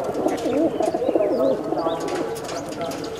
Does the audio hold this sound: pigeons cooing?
yes